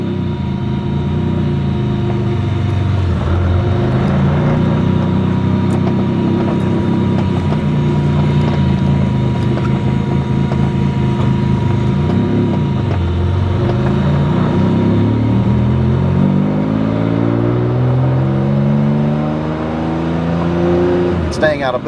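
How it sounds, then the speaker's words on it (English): A Jaguar XJ220 sports car drives slowly through a business park, with a steady engine drone that rises and falls as it shifts through gears, plus wind rush heard close from inside the car. "I'm going to take it for a very short drive right through the business park and back"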